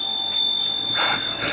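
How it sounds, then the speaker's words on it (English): Bell on a Specialized Turbo Porto electric bike, a bright metallic ring holding a steady tone, with two short brighter strikes near the end, close and clear with no talk. "it's a wonderful bell and wonderful bike."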